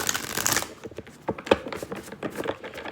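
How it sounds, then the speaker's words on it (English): A deck of tarot cards is riffled and shuffled up close, with brisk flurries of papery flicks and a few soft taps as the cards settle. "2 more shuffles and we're ready."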